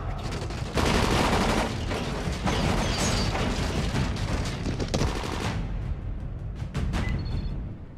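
Gunfire in a film scene: a rapid, dense volley of loud shots filling the first several seconds, then tapering into scattered fainter reports and mechanical clinks.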